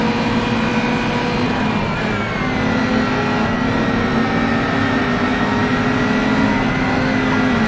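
In the video game Race Driver: GRID, a Chevrolet Lacetti race car's engine runs with a loud, continuous high-revving drone. The pitch steadies and shifts slightly as it holds speed, with no talk over it.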